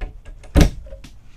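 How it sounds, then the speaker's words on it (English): Wardrobe doors in a 2022 Renegade Vienna B+ RV swing open with one loud, close clunk, followed by faint light rustles in an otherwise quiet interior. "Opening up these doors, there's a pretty big wardrobe with a hanging rod."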